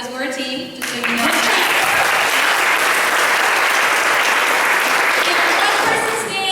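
Audience applause bursts in after a brief moment of talk and stays loud and dense, many hands clapping steadily right to the end.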